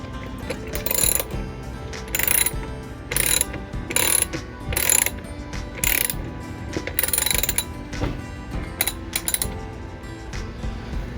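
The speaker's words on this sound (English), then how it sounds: "Torque it up a little bit." A ratchet wrench torquing bolts on the upper right control arm of a C3 Corvette: repeated close bursts of rapid clicking, pausing briefly between strokes, with no talk.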